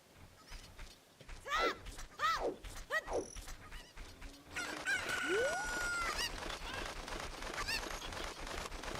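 Fowl calls in a Zelda game, clucks and a rooster-like crow repeating in several distinct bursts, fairly loud and close over a steady game backdrop, with no talk over them.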